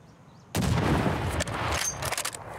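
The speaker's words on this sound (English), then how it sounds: "I hear suppressed shots" Suppressed gunfire in the video game Escape From Tarkov: a sudden loud burst of shots, followed by a string of sharp cracks and rumbling reports over roughly two seconds, with no talking.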